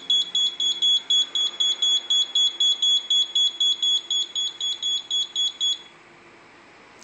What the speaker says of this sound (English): it'll go off an alarm. There's an alarm.